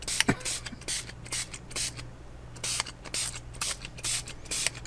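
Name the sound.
spray bottle spraying water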